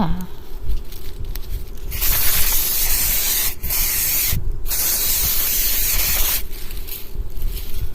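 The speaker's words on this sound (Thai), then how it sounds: "ฉีดพ่นไปเลยพี่น้อง กระป๋องเดียวก็ใช้ได้ตั้งหลายต้นพี่น้องเลยไม่เปลือง" Pesticide sprays from an aerosol can onto plants in long, loud, continuous hissing bursts, broken by brief pauses, over a low background rumble.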